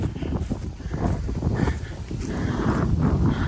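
Wind gusts steadily through woods on a hike near Baldwin Pond, a loud, continuous rushing roar buffeting the microphone, with faint rustling and crunching underneath.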